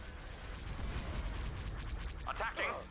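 Laser cannons fire in the Thrawn's Revenge space battle, a low, rumbling barrage of blasts and booms under the battle noise. A voice briefly speaks near the end.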